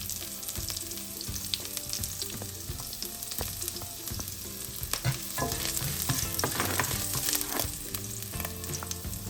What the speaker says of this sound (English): Now add a little bit of olive oil. So we have to add the 3 cloves of fresh garlic.